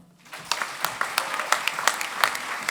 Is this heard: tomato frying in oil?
no